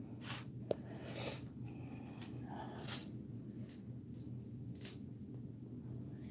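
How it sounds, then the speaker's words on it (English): A sleeping dog snores nearby in a quiet indoor room, giving a few soft, irregular snorting breaths over a low steady background hum. "You can literally hear my dog snoring."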